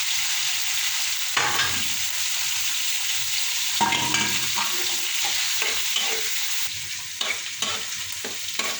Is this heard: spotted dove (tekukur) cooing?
no